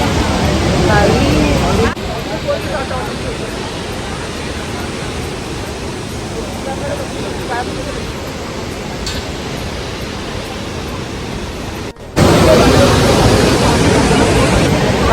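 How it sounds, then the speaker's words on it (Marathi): Saraswati river rushing through Mana village near Badrinath, a steady loud roar of churning water that fills the whole stretch, briefly cut twice, with voices talking faintly over it. "खळखळलेलं आलं पाणी"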